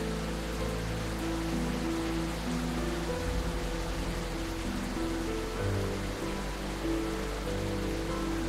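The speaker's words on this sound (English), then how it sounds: "The rain is a little fucking loud though, like really loud." Loud rain in the intro of a video game, a dense, steady hiss of downpour filling the whole clip, with low tonal music-like hums underneath and no speech.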